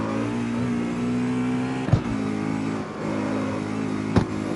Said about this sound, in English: I can't get over how this transmission sounds.